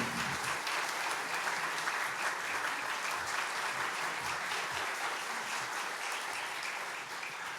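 A church congregation at a Sunday worship service applauds to welcome the pastor to the pulpit, with steady, dense clapping that fills the room evenly from start to finish and no one speaking.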